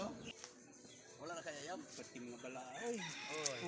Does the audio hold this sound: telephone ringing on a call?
no